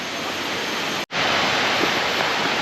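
A river flowing beside a campsite in Kalumpang, a loud, dense, continuous rush of water close by with a brief cut in the middle.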